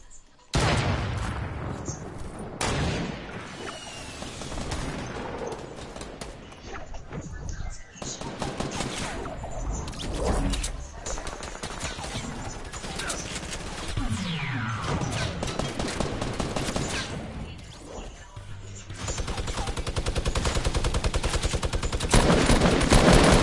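Video game gunfire, sustained bursts of rapid automatic shooting and scattered shots across a long firefight, loud and dense, with voices talking in between.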